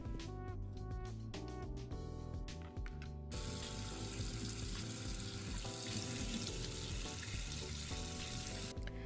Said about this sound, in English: just wash it off with some cold water